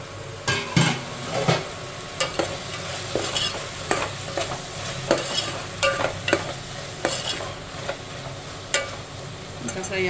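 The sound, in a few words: frying and stirring spiced mixture for dum biryani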